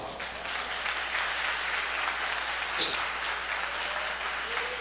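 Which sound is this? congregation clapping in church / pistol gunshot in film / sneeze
congregation clapping in church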